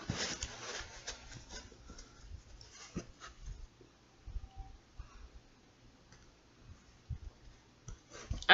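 A deck of tarot cards being shuffled, with a quick burst of crisp riffling and flicking at the start, then sparse soft clicks and taps, faint and close.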